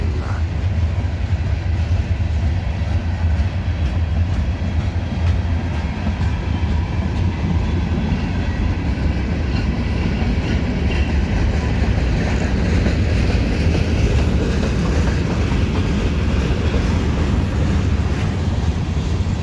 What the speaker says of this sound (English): The steel train.